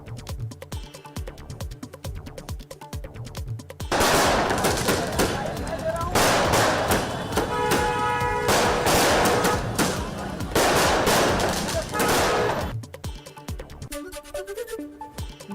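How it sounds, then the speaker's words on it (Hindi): Firecrackers set off at a celebration for Brajesh Pathak becoming deputy chief minister crackle in dense, rapid volleys of sharp bangs for about eight seconds, preceded and followed by quieter scattered pops and background crowd noise. "पटाखे जलाकर जताई खुशी।"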